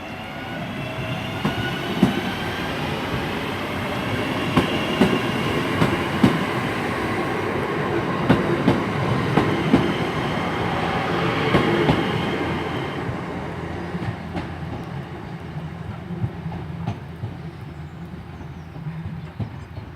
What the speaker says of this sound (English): 323215 heading off to Four Oaks from Redditch.